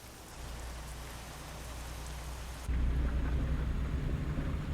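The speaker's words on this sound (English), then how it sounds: "I feel like we're now driving into the storm, not driving away from it" Steady rain and storm in American Truck Simulator, a dense hiss of rain on the cab that abruptly grows heavier and deeper partway through, with a low rumbling undertone and no voices.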